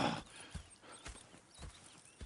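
Horses in the Red Dead Redemption 2 video game clop along at an even walking pace, with distinct hoof strikes about every half second, soft and moderately near, and no talk over them.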